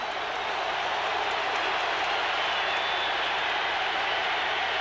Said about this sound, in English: Hard to be heard with the roar of the crowd in Tuscaloosa.